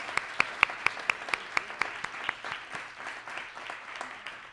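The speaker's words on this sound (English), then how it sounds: "give those ladies a round of applause" Applause for staff and volunteers at a community awards evening, several loud distinct claps leading into a broader crowd patter that gradually softens.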